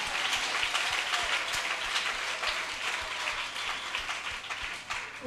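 Steady applause from a church congregation during a Kinyarwanda worship service, a dense, continuous patter of many hands that holds at an even level throughout, with no voices over it.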